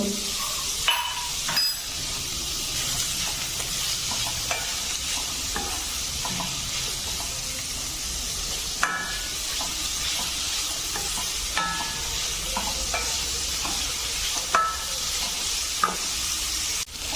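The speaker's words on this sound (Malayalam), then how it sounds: "ഉള്ളിയൊക്കെ ഇവിടെ നന്നായിട്ട് വഴണ്ട് വന്നിട്ടുണ്ട്" Onions sautéing in a pan for a home-style chicken curry: a steady, close sizzle with scattered scraping clicks from stirring throughout, and no voices.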